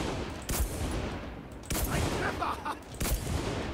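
Distant rattling gunfire from a battle in the World War II shooter Enlisted, set at Stalingrad, with several sharp bursts cutting through a constant noisy battlefield din.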